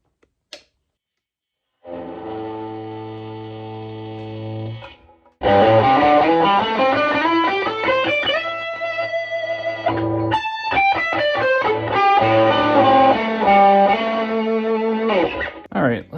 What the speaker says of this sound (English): let's see what it sounds like with some distortion